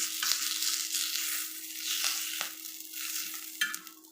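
Green chillies fry in a pan while being stirred, giving a steady sizzle and sharp pops and crackles throughout, near and clear, with no talking.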